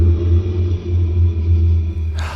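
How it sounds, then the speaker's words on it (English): A low, continuous rumbling growl throbs steadily and loudly, deep and close, ending with a brief rustle. "That's growling."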